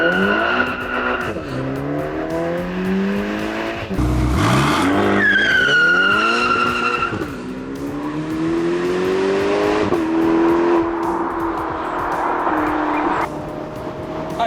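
A Ferrari Portofino accelerates hard at full throttle, its engine note climbing loud and close through the revs, dropping at a gearchange, then pulling again with a brief tire chirp or rush mixed in.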